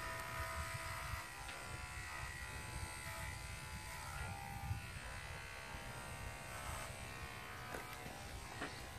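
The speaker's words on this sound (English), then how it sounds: "Now with the tail, I'm just gonna come up, shave the sides." Electric clippers shave a dairy cow's udder and tail area before milking, giving a steady, close, continuous motor buzz with no voices.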